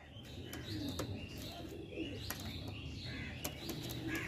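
Pure magnet pigeons coo softly among chirps and scattered bird calls, with a few faint wing sounds and a steady outdoor background, no one speaking.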